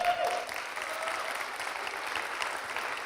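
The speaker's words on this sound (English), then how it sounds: "give yourselves a round of applause for that." A university audience at a technology and Bitcoin talk breaks into steady applause, a dense, even patter of many hands clapping throughout with no voices on top.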